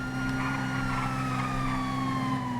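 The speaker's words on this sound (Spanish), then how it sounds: "Las sirenas me marean." Several emergency vehicle sirens wail steadily in a roleplay video game, with long sustained rising-and-falling tones layered together, loud and continuous throughout with no talking.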